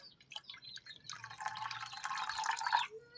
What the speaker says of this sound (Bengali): এই লেবুর রস বার করে রেখে দিয়েছিলাম, সব এতে ঢেলে দেবো।